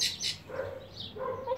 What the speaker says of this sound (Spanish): Un pájaro.